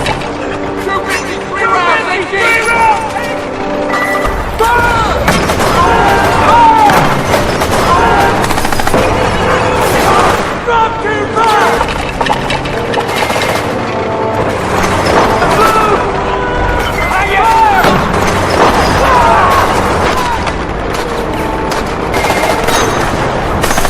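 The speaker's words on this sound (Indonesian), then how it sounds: "mereka langsung mengisi peluru mortar dan langsung diluncurkan ke arah musuh" Battle scene from a Pacific War film with American marines firing mortars at a Japanese tank, dense continuous gunfire and explosions roaring loud throughout, mixed with crowd shouting and voices.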